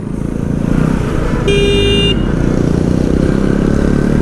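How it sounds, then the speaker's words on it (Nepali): An Indian motorbike pulls up alongside on a Nepali hill road, its engine a steady close drone, with a short bright horn blast partway through. "मेरो छेउमा चाहिँ इन्डियन मोटर बाइक आइरहेको छ।"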